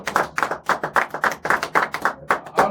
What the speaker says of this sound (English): asking us to give a round of applause to Tao